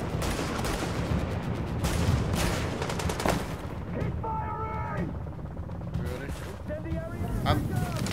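Rapid gunfire from the third-person shooter The Division during a mission to secure a refugee camp, dense bursts crackling through most of the stretch with electronic game tones later, while players talk over it.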